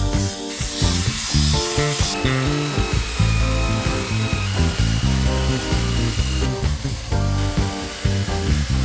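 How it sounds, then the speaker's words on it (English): Power sanding of a rough wooden tabletop coated in old varnish, outdoors; a loud, continuous abrasive whir and grind that rises and falls as the sander moves across the wood, with no talking. "Let's take it outside, give it a good sand down"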